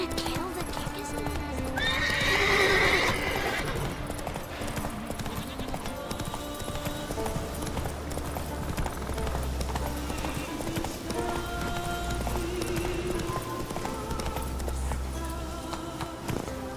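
Hooves clip-clop steadily from a horse ridden in The Witcher 3, with a brief whinny early on, all set against game music and ambient layers.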